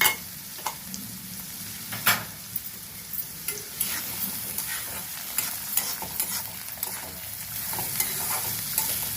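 Curry leaves and green chillies frying in oil with onion pieces for a ridge gourd fry: a continuous close sizzle broken by repeated spatula scrapes and knocks against the pan.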